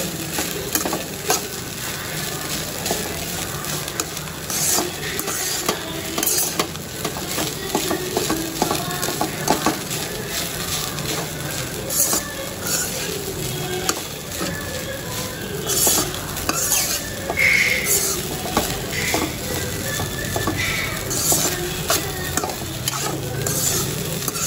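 A spoon scrapes and stirs spices in a pan over a low flame, steady rhythmic scraping with soft sizzling underneath, close and continuous with no talk.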